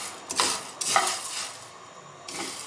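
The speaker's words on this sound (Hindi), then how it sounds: "इसको भी ड्राई रोस्ट करेंगे 2 से 3 सेकंड के लिए, खुशबू आने तक" Dried coriander seeds are dry roasted in a pan and stirred, producing a few close, intermittent bursts of scraping and rustling against the metal, with a faint background hiss between them.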